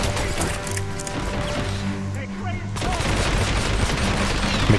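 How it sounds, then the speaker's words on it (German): Pistol gunfire in the video game Hitman Absolution, loud rapid shots cracking in a busy burst that thickens toward the end, with someone talking over the action. "Das ist eine scheiß Pistole."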